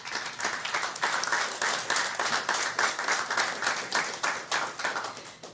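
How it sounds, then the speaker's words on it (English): An audience at a folk music concert applauds, a dense, even wash of many hands clapping at close range that holds steady for several seconds without voices. "Please give them a big round of applause."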